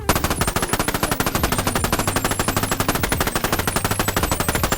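Gunfire rattles in the VR game BONELAB as a rapid automatic burst of loud, evenly spaced shots runs nonstop, with no speech.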